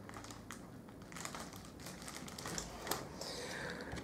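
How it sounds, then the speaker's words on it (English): A piece of foil is scrubbed and crinkled during card making, producing close, quiet bursts of papery crackling and rustling in irregular clusters, with no voices. "I'm scrubbing some foil."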